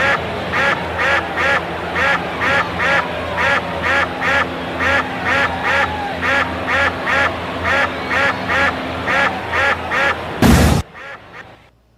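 Repeated duck quacks from a sound effect, loud and close, sounding in a steady rhythm of bursts for about ten seconds before a sharp noise burst and a brief fade.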